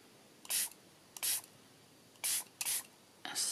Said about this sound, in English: a spritz,